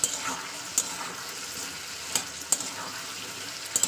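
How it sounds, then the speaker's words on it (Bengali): Spice paste frying in oil with beetroot, carrot and peas, stirred with a spatula: a steady close sizzle broken by several sharp scraping clinks of the utensil against the pan, with no talking. "তো মশলাটাকে ভালোভাবে কষিয়ে নিচ্ছি তেলের উপরে"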